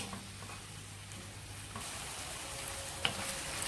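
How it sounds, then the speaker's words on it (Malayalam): Sliced onions sautéing in a pan for chicken Mughlai, a steady close sizzle and frying crackle with a brief sharp tap of a utensil near the end. "സവാള നമ്മൾ സാധാരണ ചിക്കൻ കറിയിലേക്ക് ചെയ്യുന്ന മാതിരി നല്ല ഗോൾഡൻ കളർ ആവുന്ന വരെ വഴറ്റണ്ട"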